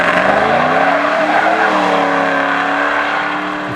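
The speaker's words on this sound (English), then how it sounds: "I'm first going to show off how this Trans-Am drives, then Matt is going to show you how he drive" A Pontiac Trans Am driven hard lets out a loud, close, sustained tire squeal over a roaring engine that shifts in pitch as the car slides and pulls away.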